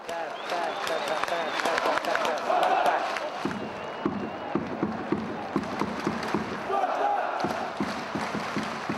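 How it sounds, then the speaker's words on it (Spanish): Spartak football supporters in Russian stands chant rhythmically while clapping in steady repeated beats, a loud crowd sound with voices mixed throughout. "Nosotros fuimos los que inventamos los cánticos y las palmas tan famosas del Spartak."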